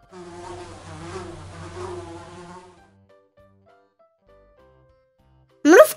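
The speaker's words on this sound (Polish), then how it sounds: "Mucha." A housefly buzzes close by for nearly three seconds, its drone wobbling in pitch, followed by quiet and a short abrupt noise at the end.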